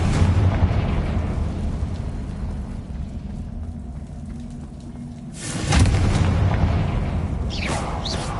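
A Confringo blasting spell bursts in the Hogwarts video game, a loud rumbling explosion swelling up midway through and fading into a long, noisy tail over steady game ambience.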